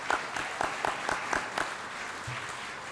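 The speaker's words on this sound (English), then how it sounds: "Big round of applause." Applause at an evening awards presentation ceremony for applied art and design: a small audience claps in a steady rhythm of distinct claps, strongest early and fading toward the end, moderately close in a hall.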